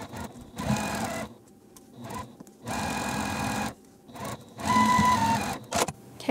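A sewing machine stitches rows of a weathervane quilt block in several bursts, each run a steady mechanical whir separated by brief pauses, close and clear.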